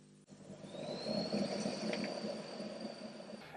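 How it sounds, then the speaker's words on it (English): Whirring, airplane-like drone from the built-in fan of a 1960s Magnus chord organ, starting with a click and holding steady and fairly quiet, with a thin high whine riding above a broad rushing hiss. "It sounds like an airplane because it has a built-in fan that spins that makes the whole thing work."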